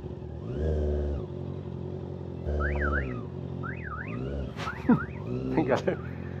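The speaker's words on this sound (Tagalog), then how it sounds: "Nag-alert pa yung sasakyan" A car alarm sounding in a parking area, repeated warbling up-and-down tones blaring in bursts over a low rumbling engine, fairly close and loud.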